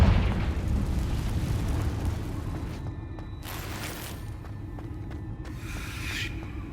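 Confringo fire spell blasts in Hogwarts Legacy, a broad rumbling boom that rolls on for seconds, with a few sharper crackling bursts of debris near the middle and end, loud and alone with no voices.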